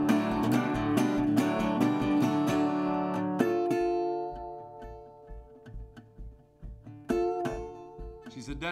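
Sung and guitar-played imitation of a distant train, with rhythmic chugging strums and bending whistle-like tones in a live acoustic blues performance at McCabe's, loud and steady throughout.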